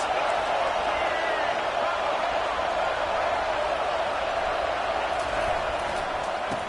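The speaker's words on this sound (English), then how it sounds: "Listen to this crowd just shaking the girders of this place, trying to help their defense" A college football stadium crowd at Auburn versus Florida State roars in a constant, dense wash of noise throughout, with a commentator speaking over it.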